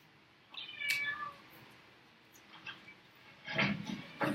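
A cat trained to escape for a food reward gives a few faint, short meows spaced apart in a quiet room, the last ones slightly louder.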